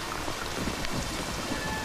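Steady rain falls continuously at close range, a dense, even wash of drops hitting surfaces with no voices over it.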